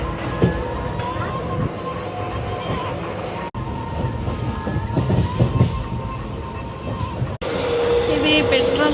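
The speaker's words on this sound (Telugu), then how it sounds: "ఇది కూడా గూడ్సే, ఇది కూడా గూడ్సే" Long goods trains rumble past beside farm fields, heard from aboard a moving train as a continuous loud clatter and roar of rolling wagons.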